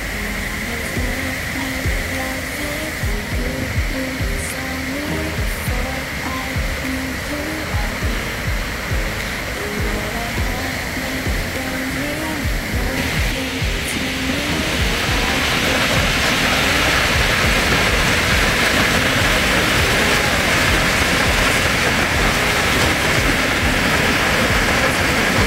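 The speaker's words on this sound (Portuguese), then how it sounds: "Agora a gente vai ver a cascata de cima." Constant roaring rush of a waterfall seen from above, loud and unbroken, growing brighter and fuller partway through.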